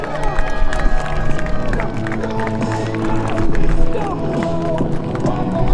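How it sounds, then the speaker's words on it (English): Air show crowd applauding and cheering for the Army Golden Knights parachute team at an open house, with a dense wash of clapping and a few voices calling out close by throughout. "Round of applause for your Golden Knights."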